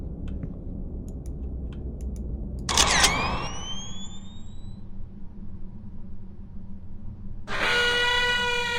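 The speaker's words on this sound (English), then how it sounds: "Push the shutter." A camera shutter clicks in a story-driven horror video game, a sharp snap followed by rising electronic sweeps, then later a bright, sustained harmonic electronic tone over a steady low ambient drone.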